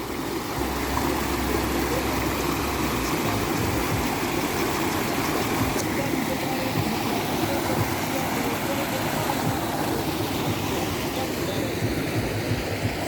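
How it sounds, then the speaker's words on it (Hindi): The Bal river rushing down from the mountains near Dharamshala, a loud, constant roaring wash of water that fills the whole scene without letup, with a low engine-like rumble briefly beneath. "पहाड़ों से गिरती कल कल की आवाज़ करती हुई बल नदी बहुत ही खूबसूरत लग रही है।"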